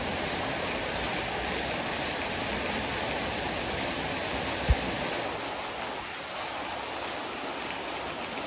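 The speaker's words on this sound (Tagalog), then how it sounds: "Lakas ng ulan po dito sa amin guys." Heavy rain falls steadily as a dense, continuous hiss of water with no letup, and one brief thump sounds partway through.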